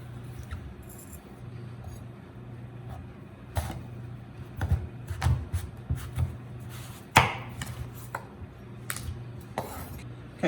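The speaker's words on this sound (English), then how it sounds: "And then we're going to cut this guy in half" A chef's knife cutting through a butternut squash on a cutting board, giving sparse, uneven knocks and thuds between quieter stretches of kitchen background, with no talking.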